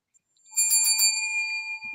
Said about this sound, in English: rang that bell, y'all.